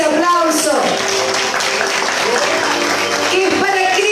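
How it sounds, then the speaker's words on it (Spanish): Church congregation applauding and clapping during a Spanish-language worship service, with voices and singing mixed in throughout. "A ver ese aplauso"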